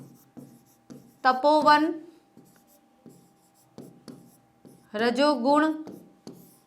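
Chalk or marker writing Hindi words on a board during a grammar lesson: a series of short, soft scratching strokes in irregular bursts, close by, between a teacher's spoken words.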